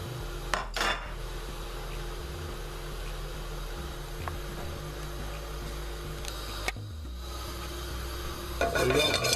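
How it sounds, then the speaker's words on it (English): Spices roast in a hot non-stick pan with a faint sizzle while a utensil stirs and scrapes the surface, and a few sharp clanks of metal on the pan ring out near the start and end. "we're gonna roast our spices"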